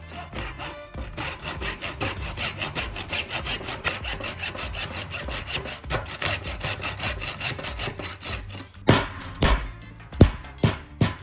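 A wooden plug fitted into a hoe handle is trimmed with a hand saw: close, steady back-and-forth sawing strokes run throughout, ending in a few sharp knocks.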